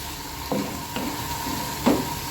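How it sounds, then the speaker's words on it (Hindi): Raw tomatoes stirred in a frying pan over medium heat, a steady soft sizzle with three distinct scraping stirs of the spoon against the pan at intervals. "कच्चे टमाटर भी जो है हमने इसके साथ चलाएंगे अच्छी तरह इसको"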